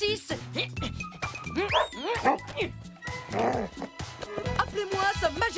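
A cartoon dog yips and whimpers in short, excited bursts, close by, mixed with other yelps and lively background sounds.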